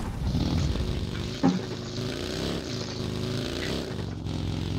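Motorcycle engine in PUBG Mobile, a steady droning hum with small shifts in pitch, close and fairly loud, running continuously with no talking.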